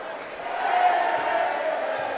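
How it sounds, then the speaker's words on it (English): A high school basketball crowd at a Scott Skyhawks versus Logan Wildcats game sings together in the stands, a sustained, swelling mass of voices echoing through the gym. "As the crowd begins to sing"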